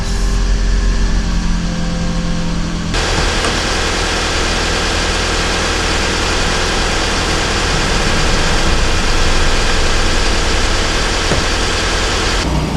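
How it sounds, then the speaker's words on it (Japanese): A Toyota Estima AHR20 hybrid's engine held running in maintenance mode, idling as a loud, steady low rumble with constant vibration that does not change for the whole stretch, close by and without voices. "そうするとねエンジンかかりっぱなしになります。"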